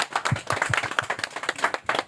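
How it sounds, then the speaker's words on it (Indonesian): Students at a gathering clap their hands together, a fairly close, brisk run of distinct claps with a loose rhythm over about two seconds. "mari kita sekali lagi tepuk tangan buat"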